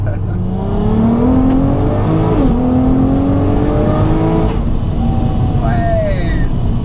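A 500 bhp supercharged VW Golf R32 accelerates hard from inside the car, its engine note rising through the gears with a brief dip at a shift and supercharger whine, loud and close, while people talk over it.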